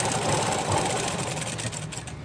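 A sewing machine stitching blouse cloth runs with a continuous mechanical whirr and rapid rhythmic clatter, close and fairly loud, slowing slightly near the end.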